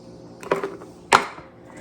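A cup of flour is stirred into Amish white bread dough in a bowl, with two dull knocks of the spoon against the bowl amid soft scraping.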